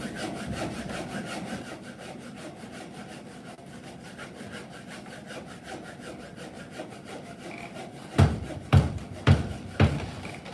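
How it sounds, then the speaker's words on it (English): Hand saw cutting wood for a Japanese kanawa tsugi splice joint, steady rhythmic rasping strokes close up, ending with four louder, separate strokes. "And then start sawing."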